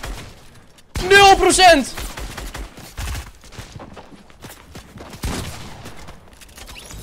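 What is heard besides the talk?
gunfire in a shooter video game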